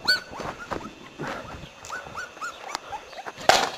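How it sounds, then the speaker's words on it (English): A small dog whimpers and whines in a quick string of short, rising and falling cries, close and fairly clear, with a sharper yelp near the end. "My little dog cried because it was his computer"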